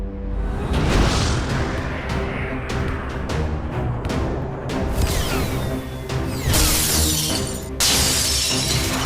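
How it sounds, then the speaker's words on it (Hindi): Motion-tracking missile fired in a kids' cartoon, loud whooshing launches and bursting crashes with sharp shattering hits and swishes in quick succession, with no voices. "इस बार मोशन ट्रैकिंग मिसाइल फायर करता हूँ।"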